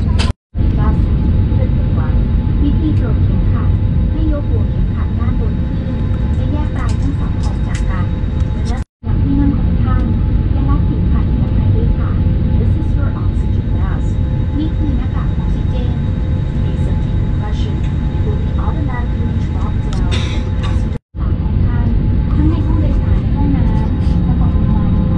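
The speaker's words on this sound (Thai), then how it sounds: "ตรงนี้ก็เป็นบรรยากาศนอกหน้าต่างของตัวเครื่องบินนะครับซึ่งพร้อมที่จะออกเดินทางแล้วครับ" Inside a Thai Vietjet airplane cabin waiting before departure, a loud, constant low engine and ventilation hum fills the space, broken by two abrupt short dropouts, with faint voices underneath.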